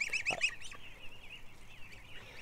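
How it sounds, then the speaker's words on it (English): A young goose gives a run of high, thin peeping calls, the first few loud and close, then a softer continuous chatter, with no talking. "Oh, there's my goose. There's the little cutie."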